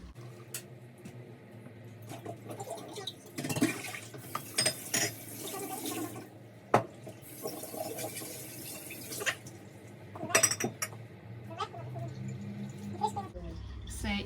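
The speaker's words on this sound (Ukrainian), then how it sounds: "І отак кожну баночку ми заливаємо кипяточком." Boiling water poured into glass jars packed with cucumbers for home canning, a running liquid splash and trickle with small glass clinks and drips, heard beneath ongoing talk in a kitchen.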